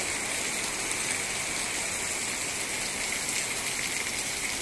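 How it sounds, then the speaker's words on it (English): Heavy rain pouring down in Rethymno, Crete in December, a dense steady hiss of drops on surfaces, constant and unbroken with no voices. "we have a lot of rain."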